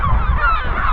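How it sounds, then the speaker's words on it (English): Seagulls calling on Berlenga Island off Portugal, a loud, close, drawn-out nasal cry lasting about a second with no talk over it. "There are way too many seagulls here and they don't like the drone."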